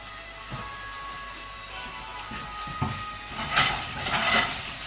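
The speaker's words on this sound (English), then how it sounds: "In the pan, I'll put clams. Let them open up. Put them. A little bit of olive oil." Clams sizzle gently in a little olive oil in a pan for crab and clam linguine, a soft, faint frying hiss broken by a few clinks and shell rattles that swell toward the end.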